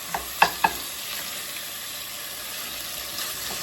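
Ground turkey browns in a pan for chili, giving a steady, close sizzle with a few brief scrapes and clacks near the start as it is stirred, and no talk.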